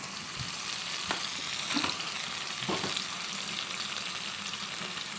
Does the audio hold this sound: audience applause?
no